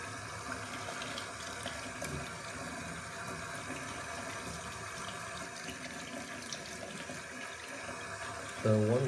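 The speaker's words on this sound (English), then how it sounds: "you rinse it from the inside outwards" Water rinsing a Harley-Davidson Screaming Eagle air filter from the inside outward, a steady close hiss of running spray that ends with a brief louder burst.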